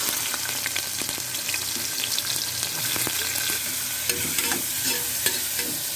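Onions sautéing with cloves, cinnamon and cardamom in hot oil in a pressure cooker: a continuous close frying crackle and sizzle with frequent spoon stirs and scrapes, steady in level throughout.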